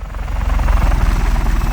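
A helicopter in Just Cause 3 thumps close and loud, its rotor blades beating in a fast, steady rhythmic pulse over a deep engine drone.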